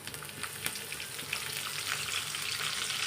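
Cumin seeds and curry leaves sizzle in hot oil in a pan for Kolhapuri kat vada, a steady close crackling hiss that holds without a break, with no voices.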